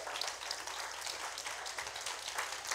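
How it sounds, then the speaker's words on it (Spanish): A church congregation clapping together as an offering of praise to God, steady dense applause from many hands, moderately distant and even throughout. "¿Por qué no le damos una ofrenda de palmas a nuestro Dios?"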